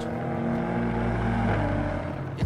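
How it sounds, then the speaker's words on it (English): A turbocharged BMW M5 F90 or Alpina B5 engine hums steadily at a muted, bassy pitch, a continuous low drone heard from inside the cabin with no speech. "because the engine is turbocharged, the soundtrack is a bit muted"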